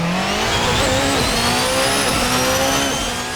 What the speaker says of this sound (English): This thing is like a comic book imagining of a race car.